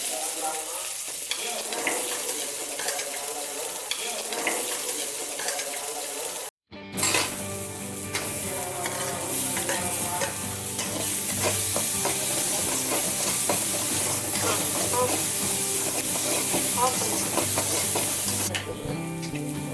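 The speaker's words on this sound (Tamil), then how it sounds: "மீண்டும் எண்ணெய் சேர்த்து வெங்காயம், பூண்டு எல்லாத்தையும் போட்டு வதக்கணும்" Onion and garlic sautéing in oil for coriander chutney, with a steady loud sizzle and frying hiss, frequent stirring scrapes throughout, and a brief cut partway through.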